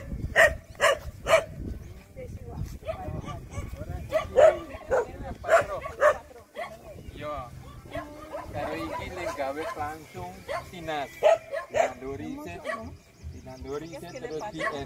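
Dog barks in several short bursts, a few near and fairly loud at the start and middle, mixed with a whimper or yip, while a family talks almost throughout on a holiday in Suriname.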